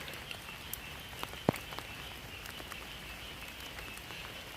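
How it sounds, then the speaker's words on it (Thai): Steady rain falling outdoors, a soft continuous patter with scattered distinct drips on a surface, fairly faint and even throughout. "ฝนตกคักตกแน่ค่ะ"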